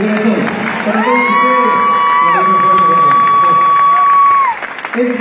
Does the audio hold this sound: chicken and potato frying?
no